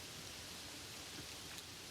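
Steady rain falling, a dense even hiss of drops on surfaces, soft and continuous with no voices.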